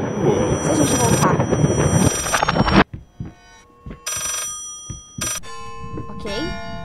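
Telephone ringing in the horror video game Layers of Fear, sharp bright rings in short bursts with pauses between, following a loud burst of noise that cuts off abruptly.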